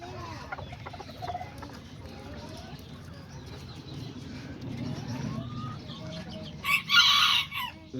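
Backyard chickens and roosters cluck steadily at moderate distance, with a brief, loud crow near the end standing out over the flock's continuous murmur; no voices.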